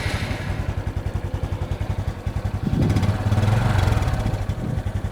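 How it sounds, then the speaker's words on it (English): A warm Honda Super Cub motorcycle engine at operating temperature idles with a steady, rapid single-cylinder putter, fitted with an SP Takegawa P-Shooter exhaust; a brief rev lifts the sound midway before it settles back to idle, close up with no talking. "So here's a warm start on my Cub."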